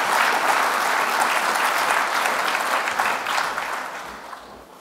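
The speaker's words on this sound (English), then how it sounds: "a huge round of applause for Sir Terry Matthews." A conference audience gives a speaker a big round of applause, a dense, loud, sustained roar of clapping from many hands that gradually thins and fades near the end.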